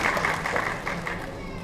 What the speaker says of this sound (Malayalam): ഒരു നല്ല കൈയടി കൊടുക്കാം ഒരിക്കൽ കൂടി